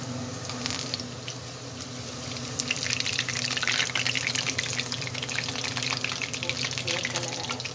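Mixed vegetable pakoras in hot oil crackle and bubble nearby, the frying swelling louder partway through and continuing densely to the end without speech.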